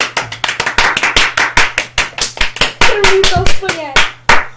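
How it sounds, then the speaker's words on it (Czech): A person claps their hands in a quick, uneven series of sharp, close strikes while showing a hamster cage. A voice speaks Czech between and over the claps. "Samozřejmě pro mě ten potlesk."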